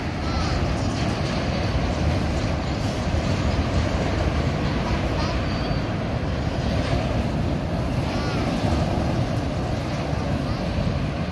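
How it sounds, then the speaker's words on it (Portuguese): A train rumbles past through a cutting before entering a tunnel in downtown Maringá, Paraná, a dense roaring and rattling noise that stays loud and steady the whole time, with wind mixed in. "Aqui é o trem passando na trincheira para entrar no túnel."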